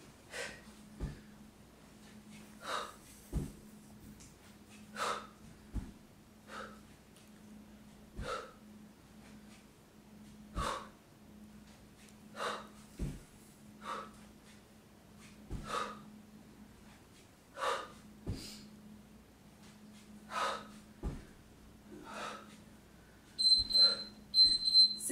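Heavy, rhythmic breathing and sharp exhales during a cross trainer workout, repeating evenly over a faint steady hum, moderately close, with a burst of louder activity at the end.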